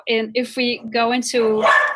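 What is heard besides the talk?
dog barking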